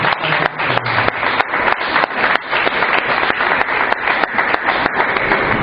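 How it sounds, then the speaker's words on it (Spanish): A church congregation bursts into loud, sustained welcome applause, dense overlapping claps filling the room continuously with sharp individual hits standing out. "démosles un fuerte aplauso de bienvenida"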